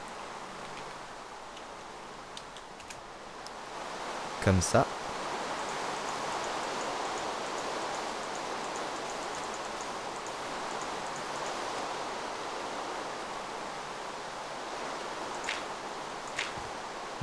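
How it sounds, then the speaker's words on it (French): Rain falls in Minecraft as a steady, soft hiss with a couple of sharp clicks early on, and a voice speaks briefly. "Ah, il pleut, super."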